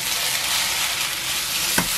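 Potato slices frying in oil in a pan for a simple potato pancake, giving a steady, close sizzle throughout, with one brief sharp tap or stir near the end and no talking.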